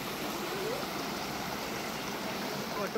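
Water from Vibhooti waterfall near Gokarna rushes in a steady, unbroken wash of noise, fairly close and even in loudness throughout, with no talking.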